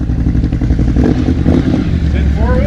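A Can-Am Renegade 1000 ATV engine revving hard and running loud and close on its first ride, a dense rumbling roar with people talking over it.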